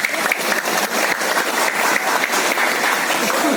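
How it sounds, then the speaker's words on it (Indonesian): An audience breaks into loud, sustained applause, dense clapping filling the room without pause. "Tepuk tanganlah."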